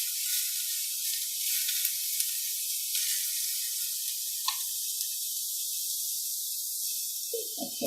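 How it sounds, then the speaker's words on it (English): Carrots and red pepper lightly sauteed in a pan give a faint, even hiss that holds steady throughout, with a couple of soft knocks near the close. "you're just going to lightly saute the carrots and the red pepper"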